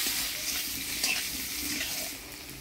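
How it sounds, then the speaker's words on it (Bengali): Potatoes frying in hot oil with turmeric and salt, a close, continuous hiss and sizzle with faint stirring, steady throughout and easing slightly at the end, no voices. "এবার হলুদ লবণ দিয়ে আলুগুলা ভেজে নিব।"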